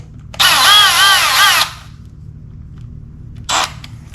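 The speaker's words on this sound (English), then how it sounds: "Sometimes you got to thread it in almost with a drill." A power drill threads a bolt while assembling a Yak Attack Black Pack Pro crate, whirring loudly for about a second, its pitch wavering under load, then a short second burst follows after a pause.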